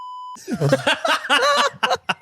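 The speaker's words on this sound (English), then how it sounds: "when holding down the beep button" A held-down beep button gives a steady, pure electronic tone for a third of a second before it cuts off, and people immediately start talking and laughing.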